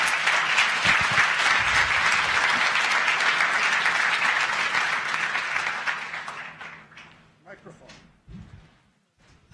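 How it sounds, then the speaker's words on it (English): An audience at a tech conference applauds speaker Jorge Nocedal with loud, dense clapping that holds for several seconds, then thins into scattered claps and fades out, with a voice briefly heard near the end. "please give an applause to Jorge Nocedal"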